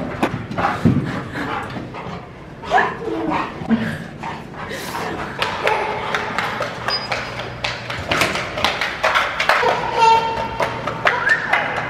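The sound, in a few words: dog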